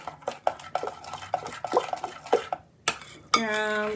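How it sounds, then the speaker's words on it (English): A utensil beats pancake batter in a bowl, quick rhythmic clinks and scrapes against the side, close and busy, followed by a sustained ringing tone at the end. "All I need to do now is to mix it."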